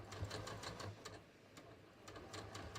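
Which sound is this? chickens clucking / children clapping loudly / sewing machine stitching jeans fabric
sewing machine stitching jeans fabric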